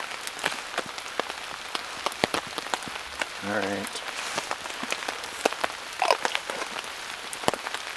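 Rain patters steadily on the fabric of a hot tent at a camp, a dense drizzle of close drops with a few louder taps, and someone speaks briefly over it.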